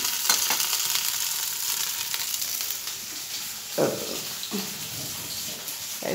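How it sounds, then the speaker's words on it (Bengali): Fish fries in a pan in a home kitchen, a continuous close sizzle broken by a few short louder spatters and stirring scrapes. "আর এখানে এই যে মাছটা ভাজতে বসানো হয়েছে দেওরের আর দেওরের মেয়ের জন্য"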